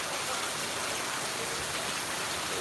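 Heavy rain falls in a garden, a dense, even hiss of drops sustained at a constant level with no other sounds.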